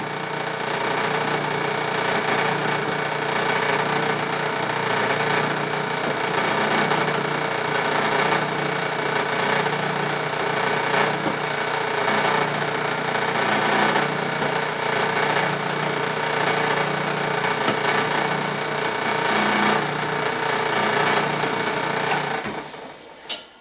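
A power drill boring through a firmly clamped stack of workpieces for a vise rack stop, running as a steady, close, continuous whir for over twenty seconds before it cuts off abruptly near the end.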